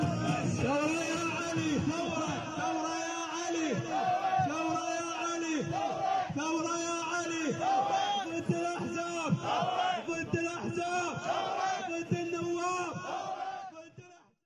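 A large angry crowd at an Iraqi street protest over rising prices chants in unison, loud rhythmic repeated phrases rising and falling in regular waves, with whoops and shouts mixed in before the chant fades out at the end.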